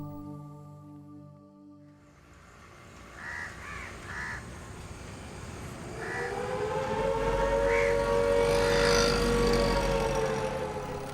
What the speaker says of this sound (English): sound of a siren means there's been an accident